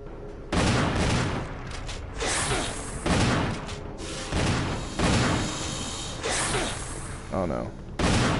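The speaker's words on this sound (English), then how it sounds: "Pull out the shotgun, ho. I just loaded it." Loud shotgun blasts in a video game boss fight, several heavy booms spaced about a second apart, mixed with other game effects and excited talking over the top.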